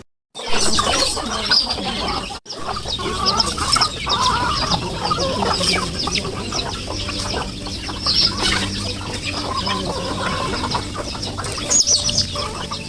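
Chickens cluck and squawk close by in a rural farmyard in the Philippine countryside, a busy overlapping chorus that runs throughout with brief sharper calls.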